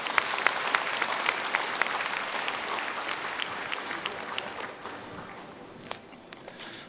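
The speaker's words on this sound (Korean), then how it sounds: "큰 박수로 환영해 주시기 바랍니다." Applause from a large audience at a Buddhist Enlightenment Day dharma assembly in Busan, welcoming the deputy mayor: steady, dense clapping across the hall that thins and fades toward the end.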